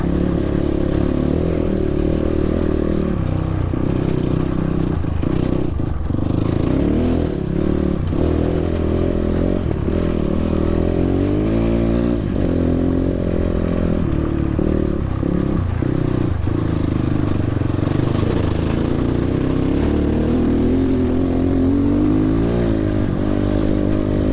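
A GPX FSE 300r motorcycle rides over rocks in Death Valley's Coyote Canyon, its engine droning loud and continuous under rattling clatter and scraping from the rough, rocky ground.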